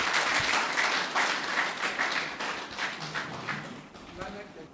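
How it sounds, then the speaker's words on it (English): Audience clapping in a steady, dense wash at a graduation ceremony for a psycho-trauma healing course, loud at first and then slowly thinning, with a few voices mixed in. "I think he deserves one more round of applause"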